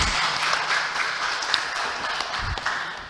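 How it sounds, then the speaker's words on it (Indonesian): Audience applause at a national Islamic university webinar event, a steady broadband wash of clapping for about three seconds at moderate level, with no clear speech over it. "Tepuk tangan untuk beliau."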